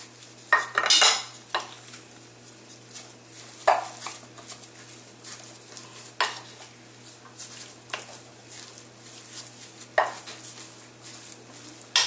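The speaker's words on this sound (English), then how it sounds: "We're going to go ahead and add that in and start mixing this together." Adobo seasoning being mixed into Puerto Rican beef stew (carne guisada) in a pot: repeated close spoon scrapes and clinks against the pot at an irregular rhythm, with a faint sizzle underneath and no talking.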